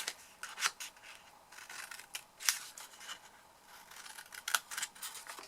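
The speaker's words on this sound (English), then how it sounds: "We cut away the corners here." Scissors snip away paper corners for a handmade pen box, a quiet run of close, crisp cuts coming in several uneven bursts with soft rustling between them.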